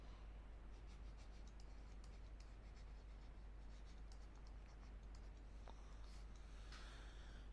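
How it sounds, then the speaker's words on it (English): A pen scratches faintly across paper while a math solution is worked out, producing soft irregular strokes in a quiet room with a low steady hum beneath. "I am writing over here"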